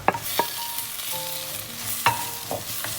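Tomatoes and onions are sautéed in a pan for crab roast, with a soft steady sizzle under a few sharp spatula knocks and scrapes against the metal. No one speaks.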